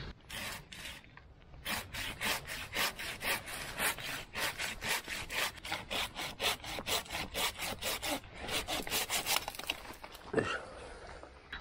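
A hand saw cuts through a black pine branch during winter pruning, with rapid, even back-and-forth strokes for about ten seconds, close and loud, ending with a brief rustle.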